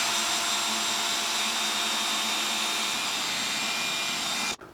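Motorcycle lift lowering a bucket of ceramic slip, a steady loud motorized whine and hiss that runs without pause, then cuts off abruptly with a thud.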